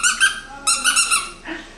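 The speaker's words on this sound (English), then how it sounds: "Can you make it squeak?" A dog's squeaky toy squeaked in short, shrill bursts close by, two quick squeaks and then a pair more after a pause, with a softer squeak at the end.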